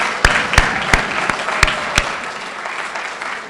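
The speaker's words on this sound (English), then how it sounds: "I give you a big round of applause for that, parents." Applause at the 2021 Madison Awards ceremony, with about six sharp, loud claps close by over a steady wash of clapping from the crowd that fades slightly toward the end.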